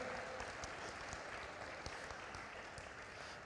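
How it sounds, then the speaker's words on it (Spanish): A church congregation applauds during a sermon, a steady wash of clapping hands that holds at an even, moderate level throughout, with no voices rising above it. "¿Por qué no le das un aplauso al Señor por su presencia?"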